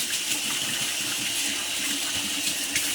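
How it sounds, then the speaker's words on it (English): Hands being washed under a running kitchen tap during meatloaf preparation, a steady close hiss of water splashing into the sink for a few seconds, with no talk. "Let me wash my hands one more time."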